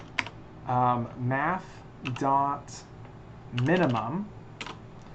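Computer keyboard keys tapped in short clicky runs while someone talks over them steadily, the typing close and light between and beneath his words.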